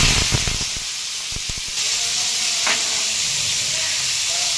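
Bitter gourd slices hit hot oil on an iron griddle with a sharp clatter, then settle into a steady, loud sizzle and hiss that continues alone.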